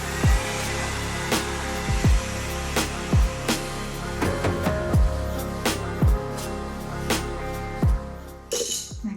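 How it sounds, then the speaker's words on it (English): An Ion Pro 1 Glide hair dryer runs steadily throughout with a loud whooshing hum, broken by repeated sharp knocks or clicks at a regular pace. "So today I'm using the Ion Pro 1 Glide Dryer"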